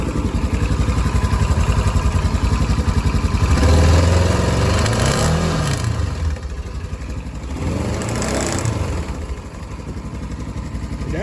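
Polaris Ranger 900XP side-by-side engine blipped and revved, climbing to a throaty peak then dropping back to a slightly uneven, clattering idle, close and loud.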